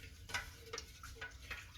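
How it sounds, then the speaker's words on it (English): A wooden spoon stirs a very hot herbal remedy, making soft, faint scrapes and light ticks at an irregular pace in a quiet room. "I'll give it a little bit of a stir."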